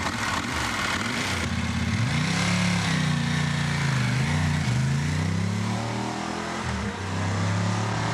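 A road-going Ducati-style 748 motorcycle engine on a twisty race circuit, a loud continuous roar close by that rises and falls as the rider accelerates and backs off, with wind noise throughout.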